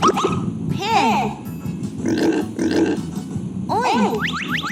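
A pig grunts and oinks in several short, snorting bursts, close and fairly loud, with brief pauses between the calls.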